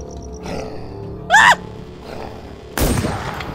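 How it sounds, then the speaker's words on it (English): Gunfire in The War Z zombie survival game: one sharp, loud burst of shooting near the end, preceded by a brief roaring cry, over a faint rumbling background. "I hear shooting!"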